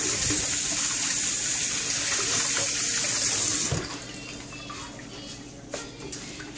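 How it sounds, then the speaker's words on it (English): Tap water runs steadily and loudly from a faucet into a kitchen sink as hands are washed, the stream cutting off midway and leaving quieter dripping and handling sounds. "Wash my hands."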